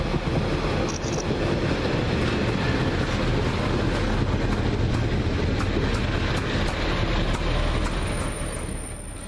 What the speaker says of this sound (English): false alarm that was my train home because I forgot the station picture